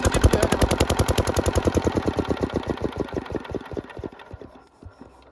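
A farm irrigation water pump engine is switched off, its rapid, loud chugging beats slowing and fading over a few seconds until it stops.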